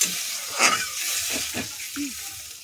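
A small amount of water poured into a hot pan holding mustard paste, green chillies and nigella seeds, giving a short burst of sizzling and bubbling hiss with scattered pops and clinks close by.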